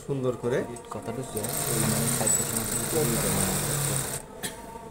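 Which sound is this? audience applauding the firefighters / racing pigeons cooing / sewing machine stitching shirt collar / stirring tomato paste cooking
sewing machine stitching shirt collar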